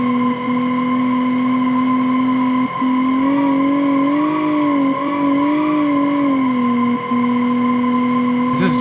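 A car in BeamNG driving with its rear wheels locked up gives a loud, steady engine drone with a shifting tonal whine. It runs continuously for the whole stretch, with no talk.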